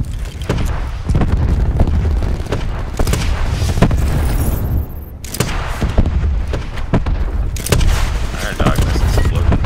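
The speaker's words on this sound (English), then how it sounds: "May or may not throw a cluster grenade and hit them with a rocket at the same time." Call of Duty Black Ops 4 gameplay: rockets and cluster grenades set off a dense run of heavy booms and thuds, loud and near, with repeated blasts and gunfire-like bursts piling up under a player talking.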